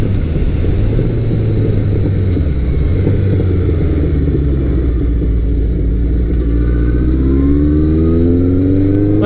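Suzuki GS1100 motorcycle fitted with a Delkevic exhaust, engine note loud and close, holding a steady throaty drone before climbing in a rising rev toward the end, no voices over it.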